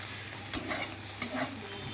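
Potatoes and vegetables with slit green chillies, salt and turmeric for a small-fish curry (chunu mach) with bitter gourd fry in a pan, with a steady sizzle and a couple of sharp scrapes of stirring, close and alone.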